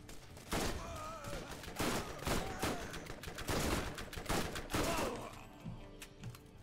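Repeated bursts of gunfire from a gun in the video game Borderlands, roughly five or six heavy volleys spaced about a second apart, moderately loud with metallic ringing tails, then fading to quieter game noise.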